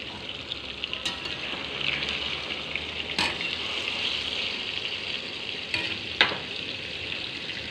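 Banana cue, sugar-coated bananas, frying in hot oil in a pan, with a steady close sizzle and a few sharp clinks of a utensil stirring, no speech.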